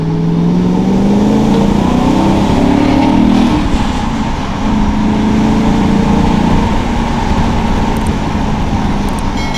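BMW E39 540i with a manual gearbox and a 4.4-litre V8 pulls hard in second gear, a loud continuous engine growl whose pitch climbs and then settles, heard alone with no talk.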